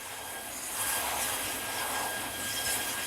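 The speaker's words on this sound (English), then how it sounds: "The jet fire simulates a hydrocarbon-fueled fire on an offshore oil rig or a missile strike" A jet fire on a test rig, simulating a hydrocarbon-fueled offshore blaze, gives a broad, steady roar like a large burner or engine, loud and constant throughout with no talk.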